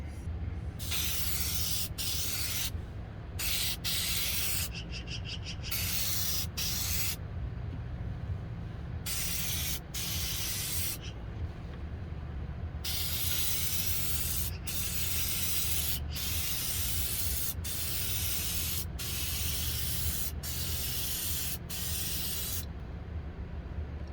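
Close, steady hiss of a Meguiar's aerosol can spraying headlight coating onto a sanded, polished headlight in long bursts with brief gaps, continuing for a long stretch with no voices.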